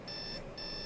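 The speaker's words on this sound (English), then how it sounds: "So her alarm turned on, and she's gonna go turn it off now." A Sims video game alarm clock rings in a steady high electronic beeping pattern, two bursts separated by a short gap, quiet and continuous under a faint background bed, with no speech.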